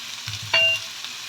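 White onion drops into a pan with a little oil and starts frying, a short soft sizzle after a brief clatter, close and fairly quiet, lasting under a second.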